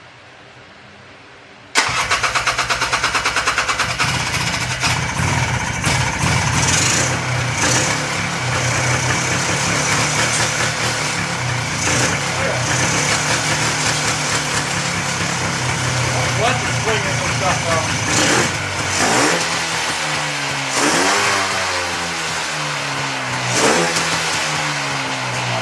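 A free, battered Polaris 4x4 ATV engine cranks and catches after a short silence, then runs steadily at a loud idle with several revs near the end, with talk over it.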